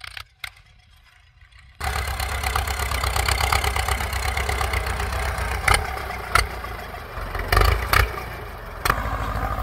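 A tractor engine idling and revving as it turns at the end of a rice field bund, starting after a brief quiet with a steady close chugging rumble and several sharper clanks.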